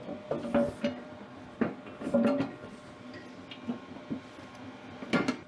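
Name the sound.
putting the cover back on a snow blower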